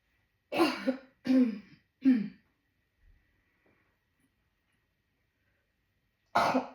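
Three quick, harsh coughs in a row, then a pause and one more cough, close to the listener with silence between.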